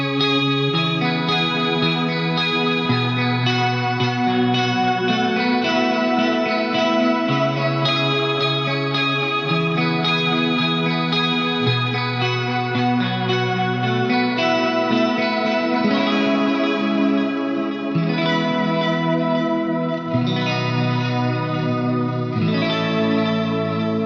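An electric guitar plays the main riff through an Eventide H9 Harmodulator with chorus and delay, a sustained, shimmering layered line of shifting chords that runs continuously and loud for the whole stretch.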